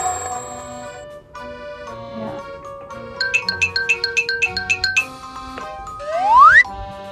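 A small bell on the red collar of a tiny fox-minion toy figure jingles in a rapid run of bright, evenly spaced tinkles, close and clear, amid quiet handling noises and a rising chime near the end.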